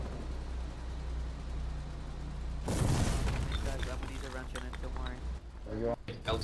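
A mortar tank fires in Foxhole, one heavy boom followed by rumbling bursts, while voices talk over the barrage and a steady engine drone runs underneath.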